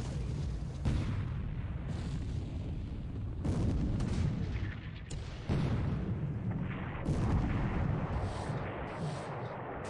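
Naval 8-inch gunfire in the War in the Pacific Admiral Edition war game, a steady barrage of heavy booming blasts with fresh salvos near 1, 3.5, 5.5 and 7 seconds over a continuous rumbling bed, loud and close, with no voices.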